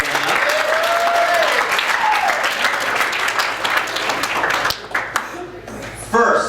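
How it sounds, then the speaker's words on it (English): A dinner crowd breaks into loud, close applause for a student, dense clapping that thins toward the end into a few scattered claps, with some voices briefly mixed in. "Let's give Josh a round of applause."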